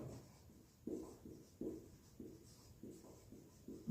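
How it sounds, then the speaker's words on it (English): Chalk or a marker moves across a board in soft, rhythmic strokes with short pauses between them, quiet and close. "So let me write it here."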